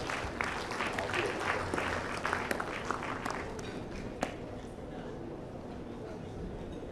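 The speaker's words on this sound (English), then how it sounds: "Shall we welcome him with a big round of applause?" Applause from the crowd at a sports awards ceremony as a patron is welcomed, a sustained wash of clapping that starts fairly strong, then fades and thins toward a quieter room tone.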